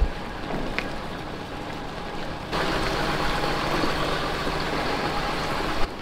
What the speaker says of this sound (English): That's just backing up now with the tractor.